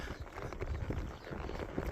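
Horse hooves clip-clop steadily and close by at a walking pace as a rider heads along a forest trail.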